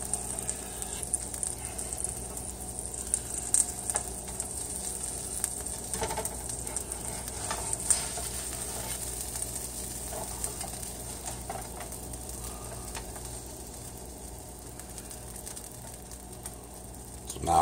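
A sandwich toasting in a hot pan, with melting cheese, gives a steady, quiet sizzle and faint frying crackle, plus occasional soft clinks and scrapes, with no voices.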